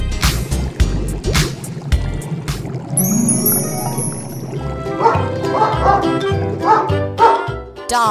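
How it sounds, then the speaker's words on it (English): A dog barks in short bursts amid a bouncy children's farm song, the barks mixed in with music and occasional yips. "Dog."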